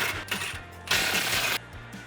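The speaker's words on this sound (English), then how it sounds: "Also using an impact wrench to make it a little bit easier." An impact wrench with an 18mm socket loosens front bumper hardware on a Jeep Wrangler JL, firing one loud, rattling burst of roughly two-thirds of a second mid-clip, with quieter workshop noise before and after.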